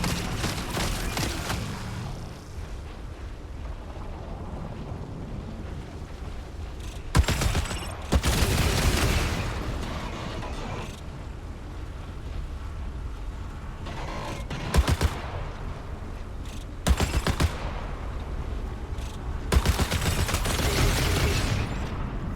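Sustained video game gunfire, a dense barrage of shots rolling on throughout with heavy bursts and booming impacts spiking at intervals, loud and continuous with no talk.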